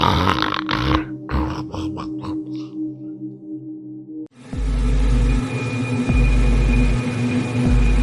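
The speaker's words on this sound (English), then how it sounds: "the reply to my questions was her loud snores" A grandmother snores loudly after a short musical passage, her snores coming as deep, rhythmic rumbling pulses that repeat at a slow, even pace.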